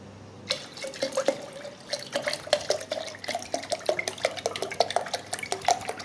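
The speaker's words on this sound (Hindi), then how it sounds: "और इसमें ऐड करेंगे बिल्कुल ठंडा पानी" Cold water from the fridge being poured into a lemon and jaggery drink, with dense close clinks and splashes of liquid against a vessel throughout, fairly steady and busy.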